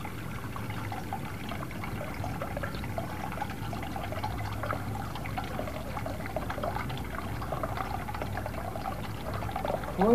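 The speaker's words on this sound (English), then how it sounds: "When the water is slowly released from the bucket, this device lets the coil proportionately move slowly upward." Water pours and trickles steadily out of a bucket in a continuous low splashing stream, even in level throughout, with no talking.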